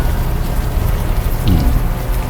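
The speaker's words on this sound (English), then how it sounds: "the warm rain is coming down." Warm rain pours steadily in the video game Unavowed, a loud continuous patter with a faint low rumble underneath.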